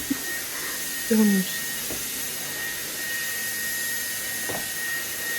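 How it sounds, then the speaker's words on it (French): A vacuum cleaner runs throughout as a steady, loud, airy whine with a constant high tone, and someone speaks briefly over it in a room being cleaned. "je passe un premier petit coup d'aspirateur"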